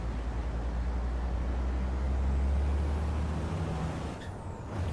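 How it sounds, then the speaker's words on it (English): Brake cooling spray hissing on a racing truck in Truck Racing Championship, a loud broadband whoosh over a deep engine drone that fades near the end, close and sustained. "usually just like one quick little spritz of brake cooling is enough to bring it back down to a better temperature"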